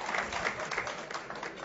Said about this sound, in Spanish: Gracias, Danilo, por el aplauso.